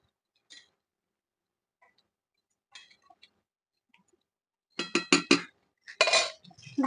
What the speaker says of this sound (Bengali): চিনিটা দিয়ে একবার নেড়ে দেবো